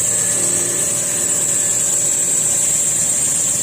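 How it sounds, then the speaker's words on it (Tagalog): A 2015–2016 model air conditioning unit runs with its motor and fan going, giving a steady, close mechanical hum with a bright high whine that holds evenly throughout, with no talking. "Kita ko sa inyo yung makina mga idol."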